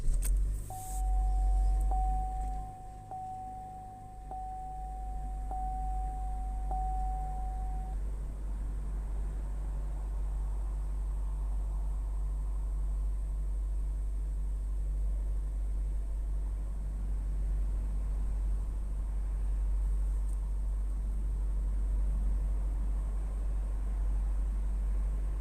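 A 2012 Chevrolet Cruze RS with a 1.4-litre turbo engine and a lean fault cranks and catches, then settles into a steady, low idle hum, heard from close by with a brief chime early on.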